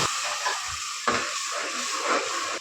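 Ground raw masala fries in oil inside a pressure cooker with a close, continuous sizzle, broken by a few soft stirring scrapes and bumps.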